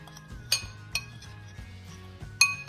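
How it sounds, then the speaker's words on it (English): A spoon clinks against a bowl as seasonings for a one-pot chicken and rice dish are stirred together, giving a few sharp, close taps over soft scraping. "So I have here my seasonings, which I'm going to mix together."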